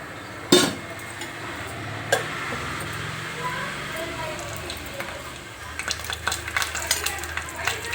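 Whole spices (cumin, cardamom, cloves, cinnamon and a bay leaf) fry in hot oil with a continuous close sizzle, a sharp clink of a utensil early on, and light metallic scraping and tapping toward the end.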